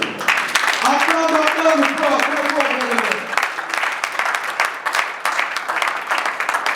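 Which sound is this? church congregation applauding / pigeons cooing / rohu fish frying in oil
church congregation applauding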